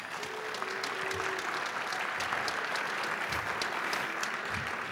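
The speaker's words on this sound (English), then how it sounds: "Let's give them a round of applause" An audience gives a school host a round of applause at a community cabinet event, a full, steady roar of clapping throughout with no one talking.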